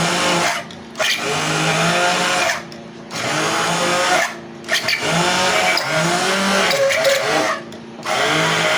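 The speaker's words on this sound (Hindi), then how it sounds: "अब हम बीटर की मदद से इसको ग्राइंड करेंगे" An electric beater grinds homemade cheese cream in loud, close bursts of high-pitched motor whirring. Four or five runs are broken by brief pauses, with no talking over them.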